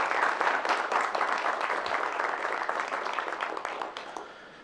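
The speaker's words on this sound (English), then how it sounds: "give them a round of applause as well." A room at a board meeting applauds the coaching staff with steady, dense clapping that starts full and gradually thins and fades toward the end.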